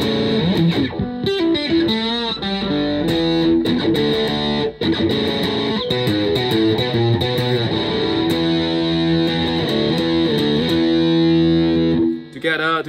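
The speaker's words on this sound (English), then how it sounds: "Let's check the distortion sound from bridge." A Fender Cabronita thinline electric guitar is played on its bridge pickup through distortion. Loud overdriven chords and notes ring out continuously and cut off sharply near the end.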